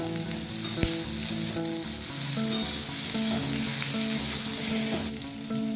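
Catla fish frying in oil with crushed green chili and ginger, a steady loud sizzle with stirring scrapes running through the whole stretch.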